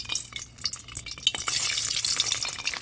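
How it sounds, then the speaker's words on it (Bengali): Turkey eggs fried one by one in a kadai, seasoned with salt and turmeric: a close, bright sizzle with crackling spatters and a few scraping touches, steady and without any talking. "দিচ্ছি কড়ায় একটা একটা করে ডিমগুলোকে আমি ভেজে নেবো"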